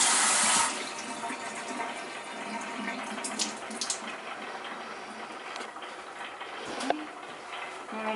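Tap water runs steadily into a kitchen sink while cilantro is washed, a loud gush at first settling into a softer continuous stream with small splashes and handling noises.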